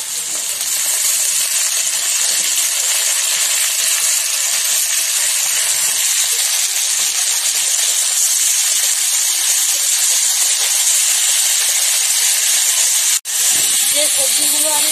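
Egg and onion stalks sizzle loudly and steadily in a hot pan, a dense continuous hiss with a brief break near the end.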